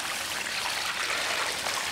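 Water pours steadily over a caught catfish, a close, continuous splashing trickle with no break.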